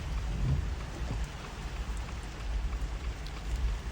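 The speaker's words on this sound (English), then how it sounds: "It's raining." Rain falls during a nor'easter on the Connecticut coast at North Stonington, a steady wash of rain mixed with low rumbling wind noise, heard outdoors with no voices.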